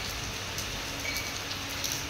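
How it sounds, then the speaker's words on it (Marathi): Rain falls outdoors as a soft, continuous hiss of drops, steady and fairly distant, with no voices over it. "छान असा पाऊस पडते, छान छान"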